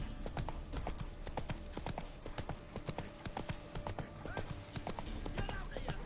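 Roach, the horse in The Witcher 3, gallops at a rapid, rhythmic clip-clop of hooves that stays close and steady throughout, with a voice briefly calling out over the hoofbeats.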